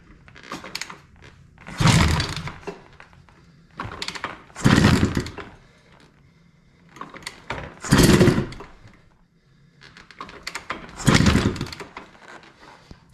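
A 1986 Honda Tecate 3 three-wheeler engine runs after its first start in many years, revving in four loud, rising bursts that fall back to a rough idle between them.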